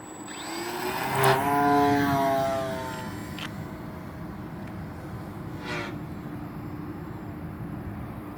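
A Sig Rascal 49-inch high-wing RC model plane passes at low throttle, a faint distant engine drone that swells briefly early on and then settles into a steady thin hum with a second fainter pass later.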